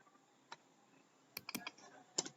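Computer keyboard typed on while writing Python code, a few sparse clicks followed by a quick cluster of keystrokes, faint and close.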